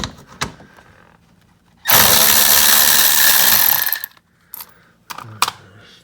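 A power drill spins a fog light screw loose on a 2017 Corolla iM, a loud steady whir lasting about two seconds in the middle, framed by a few quieter clicks and knocks.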